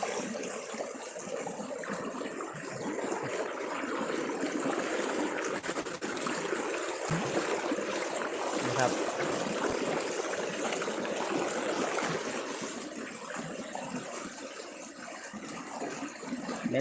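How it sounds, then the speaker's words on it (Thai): Strong stream current rushes and churns through a deep pool at a rapids near Ban Na Wiang Kham Siri in Yasothon, Thailand, a steady broadband roar that stays loud and unbroken throughout with no voices. "น้ำไหลเชี่ยวกราดพุ่นละ"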